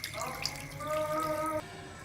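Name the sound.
running tap water washing cut water spinach roots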